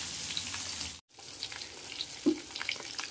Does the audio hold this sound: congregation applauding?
no